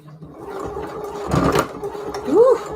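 A home sewing machine runs in short uneven bursts, stitching lace for a junk-journal project, with a louder whirring stretch and a faint voice under the mechanical clatter.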